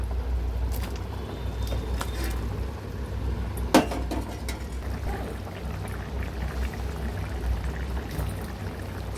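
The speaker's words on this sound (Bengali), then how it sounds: "এবার জল দিয়ে দেব।" Water poured into frying spice mix while cooking a snakehead fish and potato curry, giving a steady pouring and sizzling wash with one sharp clink partway through.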